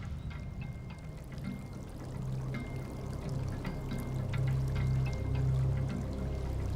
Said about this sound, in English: poured water over it to represent the failure of glacial Lake Missoula